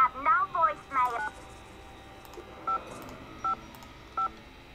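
Telephone keypad dialing tones, a quick string of beeps near the start followed by several separate single tones, with a voice talking over the opening.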